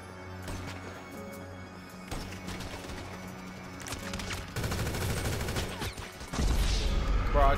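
Gunfire in Grand Theft Auto V: dense, continuous volleys of automatic shots cracking away for several seconds, growing louder and heavier toward the end, with no clear talk over it.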